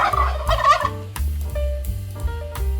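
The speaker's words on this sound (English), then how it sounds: "It makes the sound gobble gobble." A turkey gobbles in a close, loud burst of rapid, warbling calls, then gives several shorter, lower gobbling phrases with no talk over them.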